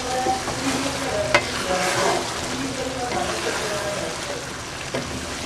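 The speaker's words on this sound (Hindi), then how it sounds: "अब हम इसमें जो प्याज और करेला फ्राई करके रखा था वो डाल देंगे।" Fried onion and bitter gourd stirred into cooking gram lentils in a pot, a busy close sizzle with scraping stirs and a couple of sharp clinks, no talk.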